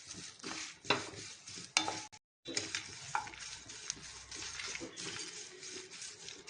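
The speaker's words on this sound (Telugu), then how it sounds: "మునగాకు వేసాం కదా, బాగా కలుపుకోవాలి." Drumstick leaves being mixed into rice in a pan, heard as repeated scraping stirs and light metallic clinks of a spoon over a soft sizzle, close up, with a brief drop to silence partway through.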